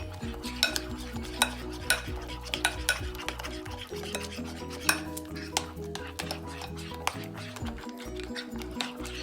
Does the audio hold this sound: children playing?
no